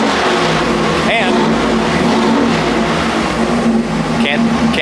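A 383 small-block Chevy engine runs hard on a dyno, a loud, continuous high-rev roar with little change, while a person talks over it.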